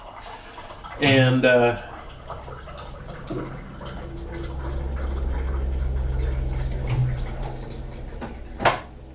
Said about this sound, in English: I'm just going to shoot over here and fill up on some water.